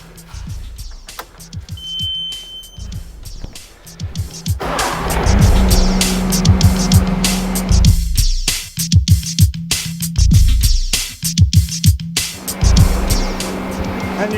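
A compact track loader's engine runs its hydraulics to press in the idler wheel during a rubber track change. A brief high beep comes early, then the engine swells loud and rough, with intermittent clanks and knocks.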